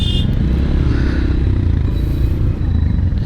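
Heavy holiday road traffic of many motorcycles on the way to Barisal for Eid, a dense continuous engine roar with clattering and rumbling close by and no break in the noise.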